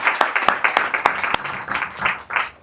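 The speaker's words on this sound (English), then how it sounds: "Big round of applause to Zain, very brave." Audience clapping at a portfolio critique night for interaction and visual design in Abu Dhabi, a short burst of scattered, uneven claps from a modest crowd in a room.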